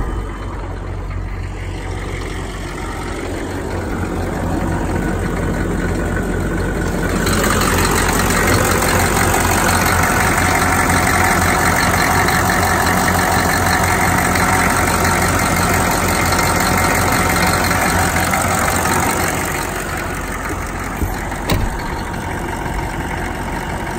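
A 1995 Chevy truck's General Motors 6.5 liter diesel engine idles with a steady, close rumble that grows noticeably louder after the first few seconds and stays even until near the end.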